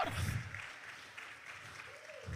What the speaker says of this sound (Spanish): Dele aplauso a ese Cristo fiel.